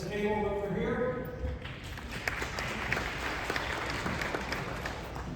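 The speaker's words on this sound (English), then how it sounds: "hold your applause until the end" A voice is briefly heard, then applause breaks out at a county board of supervisors meeting in Orange, a steady crowd clapping that continues evenly to the end.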